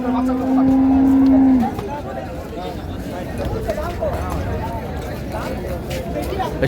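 A cow at a rural cattle market lows once in a long, loud moo, followed by the busy babble of a crowd and voices talking over the market noise.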